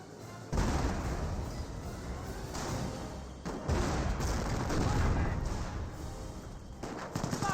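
Bursts of gunfire strike a German Grenadier squad in the World War II strategy game Company of Heroes, a steady rattle of shots and impacts starting abruptly, pausing briefly, then resuming at moderate loudness.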